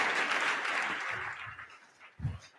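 A round of applause for the speakers at a casual Data Beers meetup, with a dense wash of clapping that fades out over two seconds, ending in a soft low thump.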